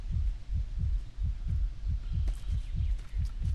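A racing heartbeat from the game Miasmata pounds in fast, regular double thumps, deep and loud, over a faint hum, with no voices.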